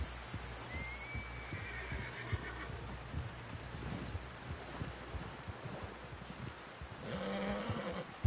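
Hooves and a horse's whinny sound faintly in a PS4 video game, with scattered hoofbeats and rustling ambience, a brief neigh rising near the end.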